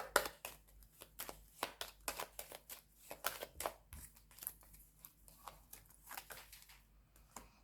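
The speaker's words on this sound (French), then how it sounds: "on va recouvrir ces petites cartes-là" Tarot cards being laid down one after another to cover other cards, a series of soft, close slaps and shuffles in an irregular rhythm, with no talking.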